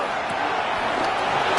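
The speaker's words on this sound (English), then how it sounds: "Crowd noise rises." Steady, dense crowd roar from a Madden NFL football video game, swelling slightly before a third-down play, loud and continuous for under two seconds.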